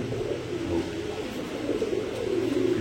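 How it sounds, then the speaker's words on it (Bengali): Pigeons from three pairs kept for sale coo steadily and close by, a continuous low throaty rumble with no talk over it. "কবুতরের ডাকও সেরকম ভাই, 3 জোড়া কবুতরই একই স্টাইলে একই কোয়ালিটি।"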